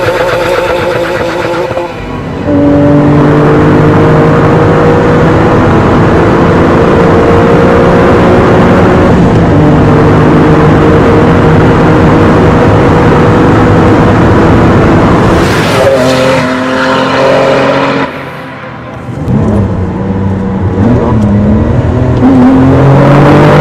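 RUF CTR3 supercar with a sequential gearbox driving and accelerating hard, its engine rising loud and close through repeated upshifts with brief dips between gears.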